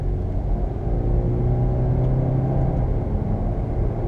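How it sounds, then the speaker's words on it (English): A Subaru Impreza with a CVT accelerates hard, its engine holding a steady, loud, close droning rumble with a smooth whirring hum and no voices. "Another acceleration run right here."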